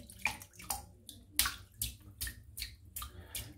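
Water splashing and dripping as a shaving brush knot is wetted under a tub tap, a run of soft, close, repeated wet swishes and drips with no talking.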